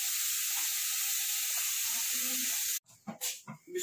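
Vegetables hit a hot cooking pot with a loud, steady hiss of sizzling that fills the first few seconds, then cuts off abruptly to quieter clatter and movement.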